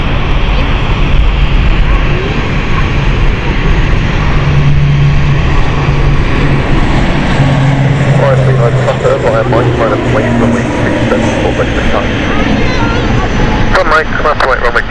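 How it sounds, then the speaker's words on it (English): Loganair ATR 42 turboprop aircraft at London City airport, a loud steady engine roar with humming propeller tones rising and falling, and voices speaking over it toward the end. "Logan Air's ATR 42 is inbound next."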